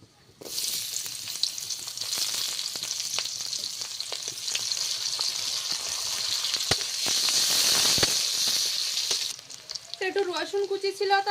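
Onion and garlic fry in hot oil in a pan, a loud, continuous crackling sizzle with sharp pops and stirring scrapes. It eases near the end as a voice briefly speaks.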